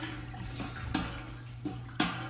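Water splashes and trickles during the sparge rinse of a Munich Helles homebrew made with a DIY kit, a steady close wash of liquid with a few soft knocks and splashes and no talk.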